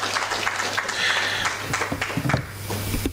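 Conference audience applause, moderate clapping from a seated crowd with a low steady hum beneath and a few louder, sharper claps near the end.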